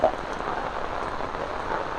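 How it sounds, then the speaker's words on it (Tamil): Heavy rain pours down on a road in Jaffna during a red-alert downpour, a thick continuous roar of drops with no pauses, loud and close, with no one speaking. "பெய்து கொண்டு தான் இருக்குது மழை கடுமையா."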